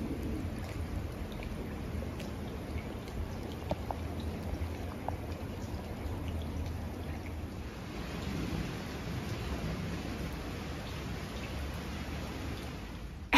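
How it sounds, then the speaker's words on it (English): Heavy rain pours steadily over a garden during a thunderstorm, with a constant hiss and low rumbles of thunder, moderately distant and unbroken by talk. "it's a lot of rain"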